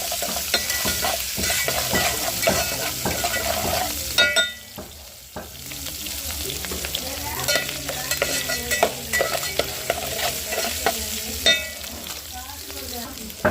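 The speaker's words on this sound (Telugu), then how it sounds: "ఆనియన్స్ వేసుకుందాం ఇదైతే బాగా పచ్చి వాసన పోయినాకైతే ఫ్రై చేసేసుకోవాలి" Sliced onions fry in hot oil with ginger-garlic paste in a pan. A continuous close sizzle and crackle runs under repeated stirring scrapes and clinks throughout.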